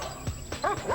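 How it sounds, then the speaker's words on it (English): Tracking dogs barking up a tree in the woods during a search, giving several sharp, close barks and yips in quick succession over a short burst. "the dogs immediately took us to a tree and were barking up a tree"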